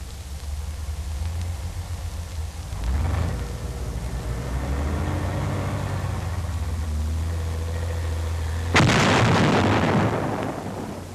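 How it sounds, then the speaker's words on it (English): A demolition charge set off from an engineer armored vehicle, a converted medium tank, gives a sudden loud blast near the end that roars out across the whole range, over a steady rumble of engine and earlier dull thuds. "the engineers can bring forward explosives and even, without exposing the men, place and fire them"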